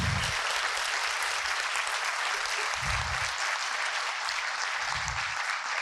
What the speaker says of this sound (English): So a big cheer for them as well, please.